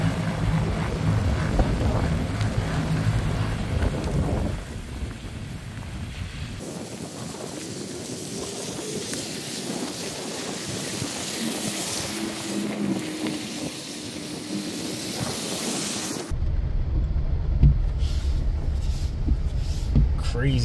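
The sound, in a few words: wind from a sudden winter storm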